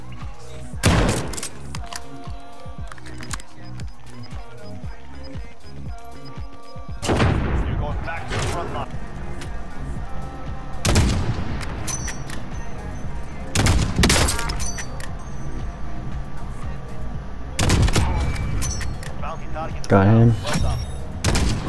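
Call of Duty Warzone gunfire as enemies shoot at the player, with several loud bursts and heavy impacts spread across the clip between quieter stretches, and someone talking over some of them.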